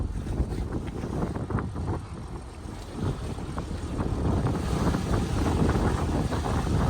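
Gusty wind rushes across a microphone at a boat dock, a rough broadband buffeting that swells and eases, then grows stronger toward the end.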